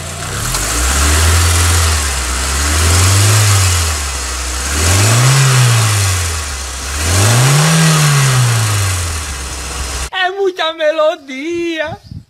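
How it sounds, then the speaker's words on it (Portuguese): A Chevrolet F2 family OHC engine in a 4x4 workshop revs four times in slow, rising-and-falling swells, loud and close. Someone talks briefly once the engine drops away. "Esse aí é o famoso motor F2 da Chevrolet, moçada."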